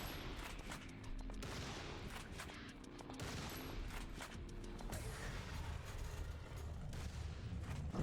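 Gunfire from the video game El Paso, Elsewhere, with shotgun blasts mixed into a dense, continuous barrage of shots and game noise at a steady, loud level, no talk.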